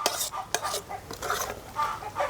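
Chickens clucking at a rural Thai outdoor cooking scene where bamboo-shoot and mushroom curry is made, several close bursts of clucking and squawks in quick succession amid clinking kitchen sounds.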